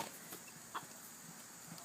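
Farm chickens sharing a yard with horses, goats, dogs and cats give a single faint, brief cluck over a quiet outdoor background.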